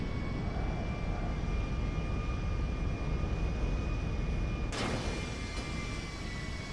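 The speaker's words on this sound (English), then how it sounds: "That 747 landing." A Boeing 747 airliner lands in GTA with a steady, loud jet-engine roar and a faint whine that runs the whole time, and a brief sharper burst cuts in near the end.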